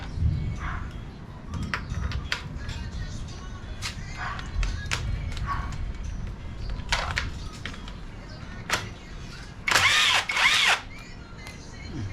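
Close, loud pair of brief impact wrench bursts with a 12 mm socket during a cam follower replacement, heard late after a stretch of quieter shop tapping, clinks and low voices.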